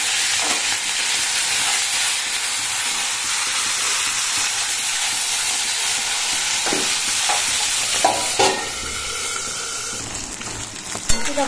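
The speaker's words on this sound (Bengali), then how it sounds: "এবার মাথাটাকে আগে ভেজে নেব।" A bhetki fish head fries in white oil in a wok, giving a continuous loud sizzle and hiss. Occasional stirring scrapes and clinks break through near the end.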